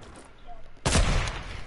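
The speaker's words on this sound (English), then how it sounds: "Stop shooting at my wall." A sudden loud burst of gunfire in Fortnite hits a wall at close range, starting abruptly and rattling on for about a second as ambient game noise continues underneath.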